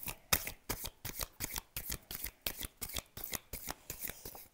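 Tarot cards being shuffled and drawn during a reading, a steady run of crisp riffling bursts, about three per second, close and fairly quiet with no talk.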